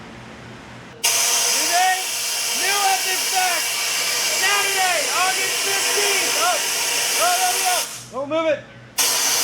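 Compressed air hisses loudly and steadily through the exhaust pipe of an Audi RS5 V8 fitted with Z-pipe and H-pipe sections, cutting off abruptly at the end while people talk over it.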